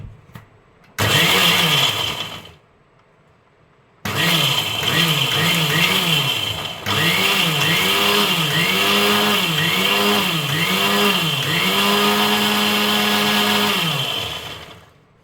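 A mixer grinder runs loud and close, grinding cooked sambar ingredients into a thick paste with no water added. A short burst and a pause lead into a long stretch of rhythmic, pulsing motor whine that rises and falls.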